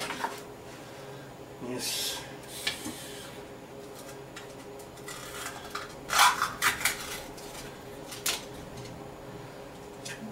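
A jar of minced garlic is opened in a home kitchen, with scattered clicks, a lid twist and glassy clinks and rattles in short bursts, close up, and a brief spoken word.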